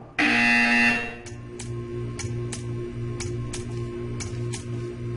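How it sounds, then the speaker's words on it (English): A loud electronic buzzer in Portal 2 blares for about a second, then stops, followed by a series of soft, irregular clicks over a low hum. "When you hear the buzzer, stare at the art."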